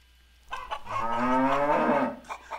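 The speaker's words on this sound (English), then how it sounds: "that was Rose the cow over there" A cow on a family farm gives one long, loud, sustained moo of about two seconds, close by and clear, with no other sounds around it.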